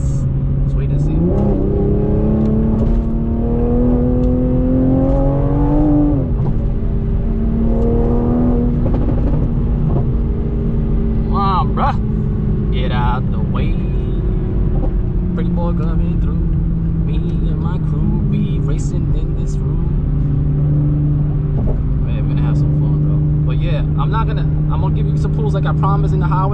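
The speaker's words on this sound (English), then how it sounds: "that's why I'm doing some pulls right now for you guys" A Toyota Supra pulls hard on a highway, its engine note climbing through the gears with a shift, heard from inside the car as a steady loud drone with someone talking over it.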